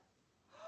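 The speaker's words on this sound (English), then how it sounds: "Now a big breath." A big breath drawn in through a mouthpiece during a lung function test, a short rising gasp-like inhalation that swells in loudness at the end, close and alone.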